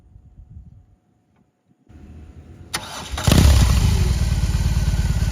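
A BMW R18 motorcycle engine cranks and fires up, settling into a loud, steady throbbing idle after a quiet moment and a few faint clicks.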